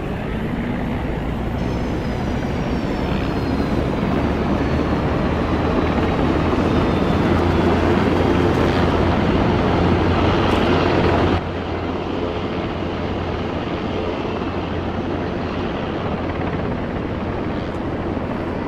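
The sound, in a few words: helicopter engines in Arma 3 video game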